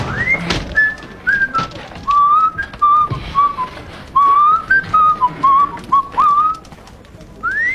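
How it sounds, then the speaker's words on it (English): A person whistles a wandering melody in short phrases with brief pauses, close and fairly loud, with some light knocks in the background. "whistling the same tune as me"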